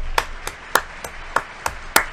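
Seven sharp, evenly spaced claps of applause in Soccer Manager 2021 ring out one after another, bright and crisp, with a faint rumble of background noise beneath.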